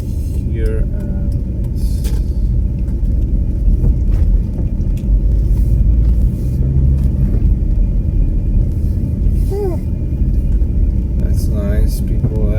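A car drives along, its low road rumble and engine noise steady throughout, with a voice talking over it.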